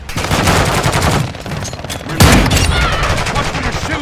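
Rapid gunfire in the mobile shooter game Warzone Mobile, loud and dense bursts with a sharp heavier shot partway through, continuing without pause.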